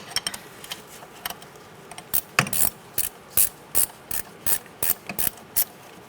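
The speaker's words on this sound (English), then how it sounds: "Using a 14mm wrench, we're going to take out this top bolt." A 14mm wrench ratchets loose a rear hub bolt on a 2004-2009 Mazda 3, giving repeated short metallic clicking bursts in an uneven rhythm, close and fairly loud with no talking.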